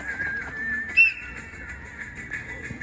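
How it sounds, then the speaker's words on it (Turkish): A coach's whistle at outdoor football training sounds as one short shrill blast near the middle, over a steady high tonal background and faint field ambience. "Düdükle."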